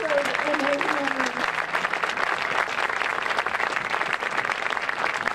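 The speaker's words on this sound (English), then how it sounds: "let's give Austin one more cheer because he deserves it" A crowd cheers and applauds at a memorial pre-game ceremony for Austin before a baseball game, sustained clapping and cheering throughout, with a voice over it at the start.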